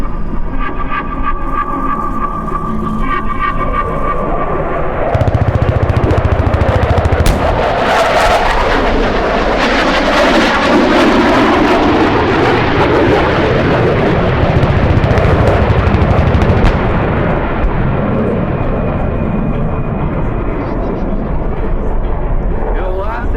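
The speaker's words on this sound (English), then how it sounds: "Ladies and gentlemen, from the left, the FA-18 strafe attack." An FA-18 jet makes a strafe attack with guns at the NAS Oceana air show, a loud, sustained roar that swells and sweeps past with rumbling gunfire and blasts, while an announcer talks over it.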